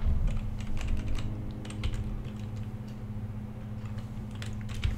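Console commands for Fallout 4 are typed on a computer keyboard, giving a quick, uneven clatter of keystrokes over a low, steady hum.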